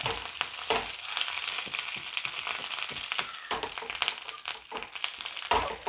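Mustard seeds, fenugreek, curry leaves and chillies fry in hot oil with rapid popping crackles over a sizzle, uneven bursts close up, and no voices.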